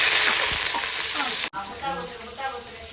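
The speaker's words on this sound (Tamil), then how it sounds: "வெங்காயம் வதங்கட்டும்" Onions fry in a pan with a loud, continuous sizzle that cuts out for a moment and returns softer, with stirring scrapes throughout.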